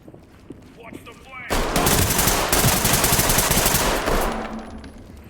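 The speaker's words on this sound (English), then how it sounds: "He's got a belt-fed machine gun." Sustained belt-fed machine gun fire in a video game, a loud continuous burst that starts abruptly after a quieter stretch with scattered shots and runs for several seconds before tapering off.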